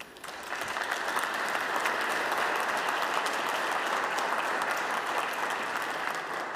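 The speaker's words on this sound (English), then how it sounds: "I would like you to give a round of applause for the team who's put in an outstanding job" A conference audience at AMP Conf 2018 applauds the AMP WordPress team, a dense, sustained clapping that rises quickly and holds steady throughout, filling the room.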